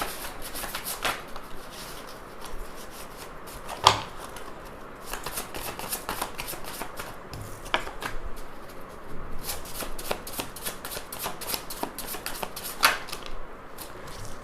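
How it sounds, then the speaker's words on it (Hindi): A deck of tarot cards is shuffled by hand in a steady run of soft riffles and slaps, close and fairly quiet, continuing for about fifteen seconds without talk. "मैं अभी इन कार्ड्स को अच्छे से शफल करती हूँ"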